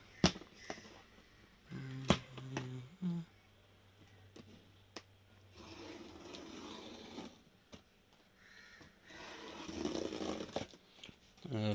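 Packaging for a BLDC ceiling fan is handled and torn open, with sharp rips, crinkles and snapping clicks in scattered bursts, and a voice speaks at points between them.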